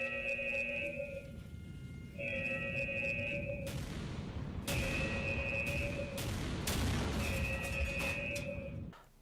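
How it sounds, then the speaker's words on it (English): Heavy booms and crashing blasts from explosions on a mining-factory map in the shooter game Killing Floor 2, several loud impacts in irregular succession over a droning background with repeating electronic tones. "you'll have like explosions going off"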